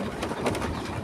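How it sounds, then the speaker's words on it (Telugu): Birds calling in a farm field, a brief burst of cooing, pigeon-like calls over a dense, noisy outdoor background. "ఇది బర్డ్స్ భలే అరుస్తున్నాయి"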